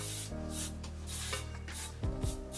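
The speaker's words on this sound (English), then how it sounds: "I'm going to use the Ouai Memory Mist, and I'm going to spray that in my hair." Several short, hissing spray bursts from a pump mist bottle, close up, separated by brief pauses with a low background hum.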